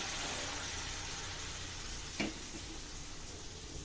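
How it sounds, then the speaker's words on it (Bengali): Bengali fish curry with potatoes and vegetable stems beginning to boil after hot water is poured in, giving a steady soft sizzling bubble with one brief clink partway through. "এই যে দেখো ফুটন্ত গরম জল দেওয়াতে কিন্তু ঝুলটা এখনই ফুটতে শুরু করে দিয়েছে"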